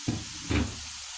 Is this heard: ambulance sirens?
no